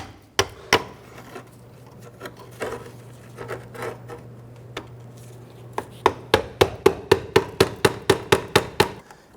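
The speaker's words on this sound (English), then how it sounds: "I'm going to go ahead and tap some of the rust off of this." Metal tapping knocks rust off the rusty T-end of a front parking brake cable on a 1992-1996 Toyota Camry, first a few scattered hits over a steady hum, then a fast, even run of a dozen sharp, close taps.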